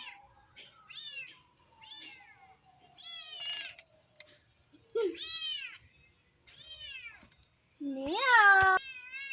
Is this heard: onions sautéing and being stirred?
no